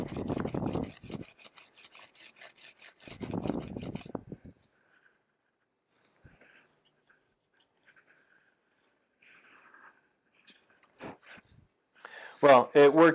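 Scotch-Brite abrasive pad rubbed over drilled holes in metal to deburr them, a steady rasping scrub in two bursts, then a quiet stretch with faint handling, with a brief voice heard near the end.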